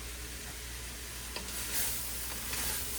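Holiday leftovers browning on the bottom of a stock pot produce a soft, steady sizzle with a few faint stirring scrapes, close and unaccompanied by speech.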